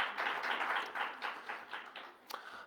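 A small audience claps for a research lead at a report launch event, the sparse, uneven hand claps sounding fairly quiet and somewhat distant, tapering off toward the end.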